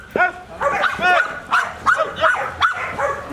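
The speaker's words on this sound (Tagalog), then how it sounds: "Gigil pa yung aso." Dog in K9 protection training barking in a rapid series of close, loud, harsh barks with whiny yips between them.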